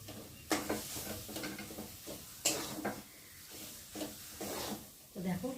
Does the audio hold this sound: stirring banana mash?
yes